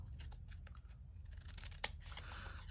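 Scissors trim small paper pieces for a tiny ladybug candy box, giving a few quiet, close snips and crisp cuts with one sharper click near the end.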